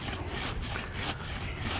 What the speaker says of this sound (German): Also ich säge ziemlich gerade, aber das wird ganz schön lange dauern